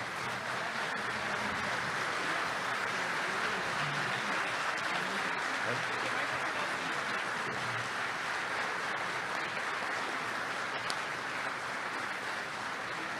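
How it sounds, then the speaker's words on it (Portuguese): A standing audience gives a professor a warm ovation after a presentation, producing continuous, dense applause that stays loud and even throughout without any break. "ajuda a gente a dar uma calorosa salva de palmas de pé para o nosso professor"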